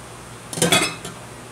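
A metal cooling rack handled in a kitchen gives one brief clattering rattle, close and fairly clear, followed by a faint second tap against quiet background hiss.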